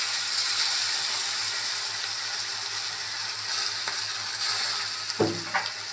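Pepper chicken roast with a squeeze of lemon sizzles steadily in a pan, a constant loud frying hiss with occasional scraping clanks as it is stirred.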